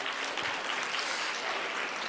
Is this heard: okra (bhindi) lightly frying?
no